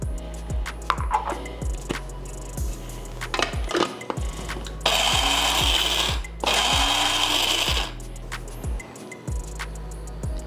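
Grinder pulsing homemade lemon pepper seasoning to a coarse grind, with repeated short mechanical knocks and two longer whirring bursts of the motor, close and fairly loud.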